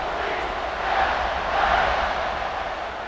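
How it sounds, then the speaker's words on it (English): A stadium crowd in the College Football 26 video game buzzes in a dense, steady roar that swells slightly in the middle, with no clear speech over it. "this crowd is buzzing after that last score"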